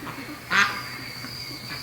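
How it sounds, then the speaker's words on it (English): A single duck gives a short, bright quack partway through, near and moderately loud above a steady outdoor background hum, with no talk over it. "Oh, it's a duck."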